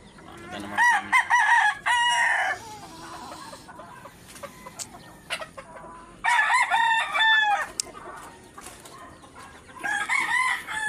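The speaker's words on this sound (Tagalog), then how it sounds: "Ayan po yung ating mga inahin." Hens cluck and squawk in bursts, with rooster-like crowing calls rising over steady farmyard clucking, fairly close.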